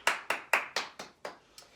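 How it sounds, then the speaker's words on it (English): Seven hand claps in steady succession, close and crisp, each with a sharp attack and quick decay, the later ones growing slightly softer, during a children's dance lesson. "can you give yourself a clap?"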